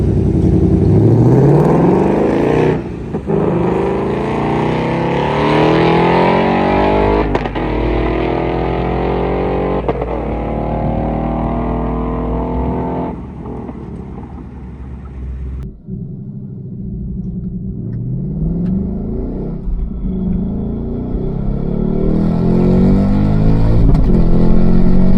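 A Ford Mach 1 Mustang with 15-inch six-piston Brembo brakes, driven hard around a race track: a loud, close engine whose pitch repeatedly climbs and drops through gear changes and braking, with no voices.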